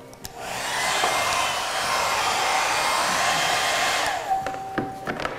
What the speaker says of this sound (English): So when I use a hairdryer